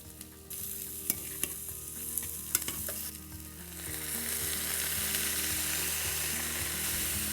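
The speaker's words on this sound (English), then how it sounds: "Just adding a little bit more of that beautiful brown steak butter." Ribeye steak sizzles steadily in a pan of brown butter, a dense close frying hiss with a few sharp spatters and clinks early on, the sizzle swelling louder and brighter in the second half.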